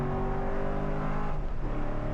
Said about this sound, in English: Now this car accelerates really nice.